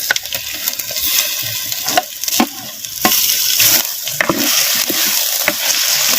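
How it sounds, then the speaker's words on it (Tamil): Mutton sizzles and fries in oil with onion and ginger-garlic paste, a steady close crackle broken by scraping stirs and occasional clinks of a spoon against the pan. "சேர்த்த மட்டனை அப்படியே நல்லா வெங்காயம் இஞ்சி பூண்டு விழுதுகளோட அப்படியே நல்லா கிண்டு நல்லா கிண்டி விட்டு எண்ணெயில் சேர்த்த மட்டன் நல்லா வதங்கட்டும்"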